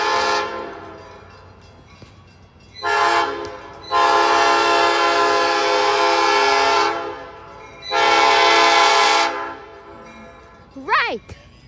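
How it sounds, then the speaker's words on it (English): Nathan P5 train horn blasting in long loud chords, a short burst followed by two sustained blows, with a bending voice-like sound near the end over passing rail noise. "So you think I love Nathan P5 horn sound?"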